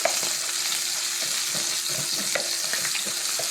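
Rice for sayadieh sizzles and crackles in a hot pan as it is stirred, a steady close frying hiss with scattered small pops, no voices.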